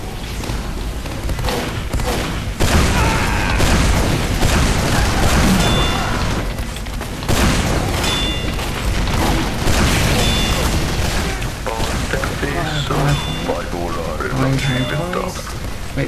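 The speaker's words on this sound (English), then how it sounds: "Wait for all the grenades to go off" Grenades burst repeatedly in a Team Fortress 2 match, loud booms and blasts spread across the stretch amid game noise, with a player talking over much of it.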